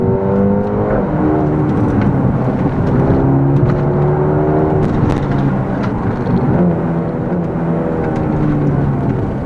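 A Mercedes-AMG A35 hot hatch pulls hard under acceleration, its turbocharged engine droning loud and close with rising and falling pitch as the automatic gearbox works through the revs, steady throughout with no talk.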